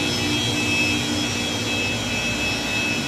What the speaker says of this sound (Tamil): இதுதான் அந்த கொய்யின்னு வர சத்தம், கம்ப்ரஸர் சத்தம்.